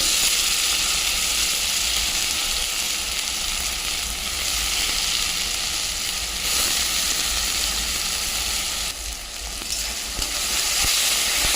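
Chopped onion, banana flower, tomato and garlic frying in a hot pan give a loud, continuous sizzle and hiss with occasional stirring scrapes, close up and without any voices.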